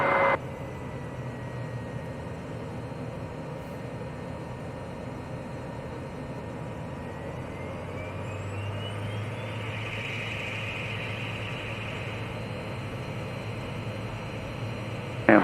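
Cirrus VisionJet single-engine personal jet in flight on approach to Shelter Cove, a steady, even cabin roar of jet engine and airflow that holds constant throughout, with no talking.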